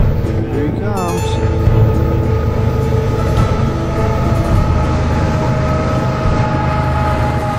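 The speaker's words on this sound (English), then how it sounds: "That's a sunset train there." A Sunset passenger train rumbles past close by with a steady low roar and rattling wheels, a brief horn sounding early, while someone talks over it.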